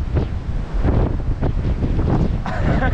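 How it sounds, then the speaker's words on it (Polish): Strong wind buffets the microphone on a bright, clear day outdoors, a loud continuous roar with rising gusts throughout. "Piękna pogoda, gdyby nie ten wiatr."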